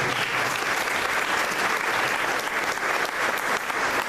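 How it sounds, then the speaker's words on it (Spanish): Church audience applauding during a sermon, a full, steady roar of many hands clapping that continues evenly across the whole stretch. "Démosle un aplauso a ese Dios maravilloso"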